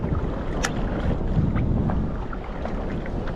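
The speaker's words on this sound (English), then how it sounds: "Blowing a bit of a northwesterly." A northwesterly wind blows across a small boat on choppy water in Moreton Bay, a steady buffeting rush against the microphone with faint water slaps and no voices.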